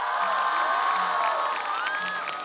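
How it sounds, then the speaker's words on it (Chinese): A studio audience at a Chinese variety game show cheers and whoops as a lively crowd, with high voices rising above a continuous wash of noise. "大家再给点热烈掌声！"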